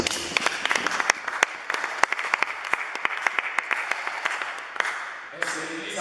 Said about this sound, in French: Si on peut lui donner l'acclamation.